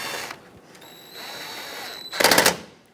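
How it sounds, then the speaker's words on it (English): A power tool drives bolts back in on a 2007-2014 Chevrolet Silverado 2500 HD during AC condenser replacement, giving a brief whir and then a loud, close burst of rattling impacts. "Let's get all these bolts back in."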